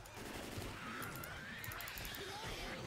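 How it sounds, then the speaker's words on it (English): Steady, fast gunfire from a weapon in the zombie shooter Left 4 Dead 2, a dense continuous stream of shots at moderate level with game noise and faint talk mixed in. "I'm spinning in circles, shooting my gun."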